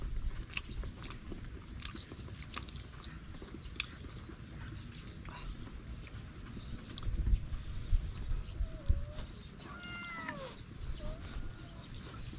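Piglets eating boiled banana peels make soft, irregular chomping and smacking clicks close by, with a few brief squealing calls near the end and a person talking in the background.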